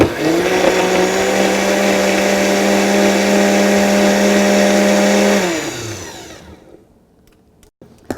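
A blender whirs loudly with a steady, high-pitched motor whine as it mixes coquito ingredients, including cloves and cinnamon, then spins down and stops, leaving a few faint clinks.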